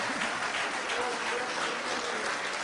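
Audience applause after a talk on synthetic biology, a dense, steady wash of clapping that fills the whole stretch at even loudness.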